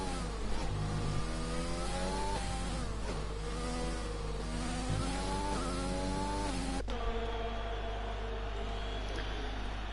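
A race car engine screaming through a fast lap in a racing video game on the Hungary circuit, a steady high-pitched whine rising and falling with gear changes and braking, loud and continuous, with a sharp drop near the end.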